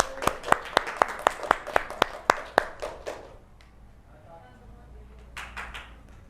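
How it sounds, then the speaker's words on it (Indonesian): Classroom clapping for a student group about to present, a burst of about ten sharp, evenly spaced claps for three seconds, then a quiet room with faint murmuring and a brief rustle near the end. "Tepuk tangan untuk kelompok 1"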